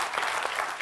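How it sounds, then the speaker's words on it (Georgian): Brief burst of audience clapping at a Georgian stand-up comedy contest show, soft and somewhat distant, sustained through the short moment with no talk. "აპლოდისმენტები მეგობრებო"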